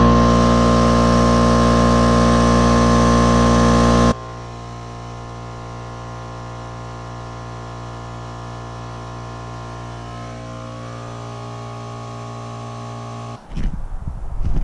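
Air compressor running steadily while filling, set up in a home garage for mounting drag radial tires on 15x10 wheels: a loud, sustained harmonic motor drone that drops to a lower, steadier hum partway through, then cuts off near the end.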